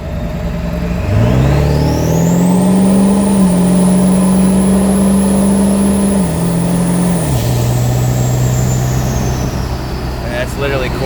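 A Ford 7.3 PowerStroke turbo diesel 4x4 truck with a built 4R100 transmission pulls at quarter throttle. A loud steady drone and turbo whine rise, then the engine pitch drops at a smooth gear shift, heard close throughout.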